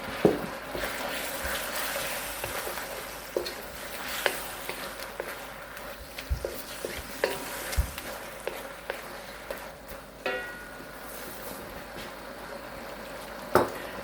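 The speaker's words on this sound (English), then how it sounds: "Stir it up. I'll add a little bit more dark soy sauce." Mongolian beef with dark soy sauce being stirred in a hot pan, a steady sizzle under scattered scrapes and clinks of the utensil against the metal, close by and without talk.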